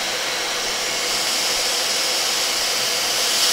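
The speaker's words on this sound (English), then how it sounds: "the vacuum makes the fan spin" A vacuum cleaner held to a Toshiba Satellite laptop during repair, its suction spinning the cooling fan, gives a loud, steady, close whooshing roar that holds without a break, with no talking.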